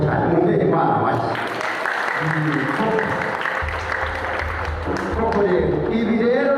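Applause from a gathered congregation at a wedding ceremony, a steady patter of clapping running the whole time beneath a speaking voice and low musical tones.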